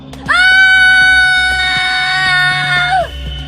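A woman's loud, sustained scream in a horror story, rising sharply and held steady for nearly three seconds before cutting off, heard clearly over a faint background.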